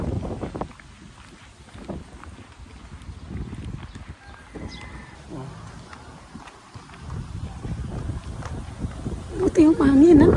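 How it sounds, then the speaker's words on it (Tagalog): Gusty wind rumbles and buffets the microphone throughout, with faint voices and scattered background noise underneath, growing louder toward the end. "Buti yung hangin, ano? Pero mainit"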